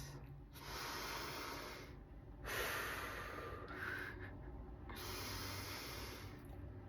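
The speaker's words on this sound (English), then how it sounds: "we're going to do our 3 cleansing breaths." Deep cleansing breaths during a breathwork session, long airy inhales and exhales repeating slowly at close range, quiet and breathy with no talk.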